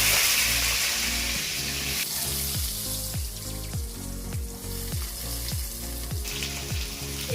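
Dried red chilies, two bay leaves, black cumin and mixed vegetables fry together in oil, a loud dense sizzle at first that settles into a bubbling crackle under repeated rhythmic scraping strokes of a spatula.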